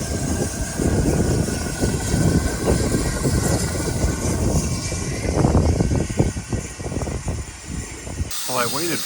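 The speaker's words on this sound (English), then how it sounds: "Here comes the train." A train on the Strathspey Railway by Broomhill station gives a steady, loud hissing rumble that fills the whole stretch and cuts off abruptly near the end, with voices faintly present.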